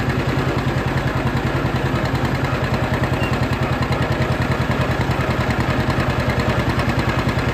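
A John Deere 50 tractor engine running in a cornfield, loud and close, with a steady rapid two-cylinder putt-putt throb that holds an even rhythm throughout.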